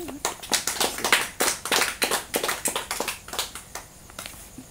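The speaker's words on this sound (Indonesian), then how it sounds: "Berikan tepuk tangan." Applause from an audience, a steady burst of many hands clapping that starts strong and gradually tapers off.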